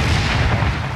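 Howitzer fire pounding a fortress wall during a siege battle in Empire: Total War, a dense low rumble of heavy booms running through the whole second without a break.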